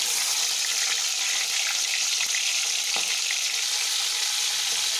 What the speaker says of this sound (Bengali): মাছগুলোকে বেশ ভালো করে উল্টে পাল্টে দু পিঠটাই ভেজে নিতে হবে